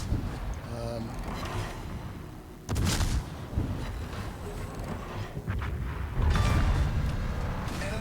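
Naval gunfire in the World of Warships video game, heard as heavy booming salvos that punch out above a constant rumbling ocean and engine backdrop, with several loud blasts spread across the stretch.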